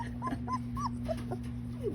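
A two-week-old Labrador retriever puppy whimpers close by. It makes a string of thin, high, rising and falling cries, about five or six in quick succession, over a faint steady hum.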